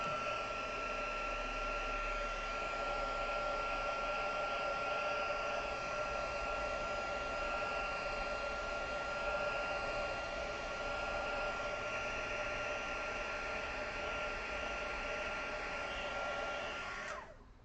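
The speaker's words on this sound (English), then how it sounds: "because this is a pigment ink, it takes a little bit longer to dry, so I'm going to heat set it" A handheld heat tool blows steadily for about seventeen seconds as pigment ink is heat-set on a handmade card, a constant close whooshing roar that cuts off at the end.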